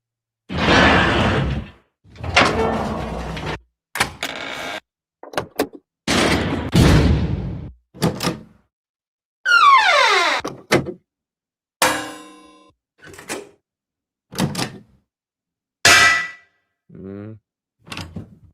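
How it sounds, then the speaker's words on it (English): Metal door opening effect: a series of loud, separate clangs and scraping bursts with short silences between them, several metallic hits and one sweeping, grinding scrape partway through, close and alone with no talk. "Need a metal door opening."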